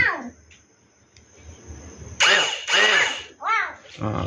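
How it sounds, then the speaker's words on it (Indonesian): Electric starter motor on a Modenas Kriss motorcycle, whirring in short bursts with rising and falling pitch, close and loud, separated by pauses with quieter speech in the background. "Maknanya bila kita setiap kali kita tekan switch starter tu, starter ni bunyi eh."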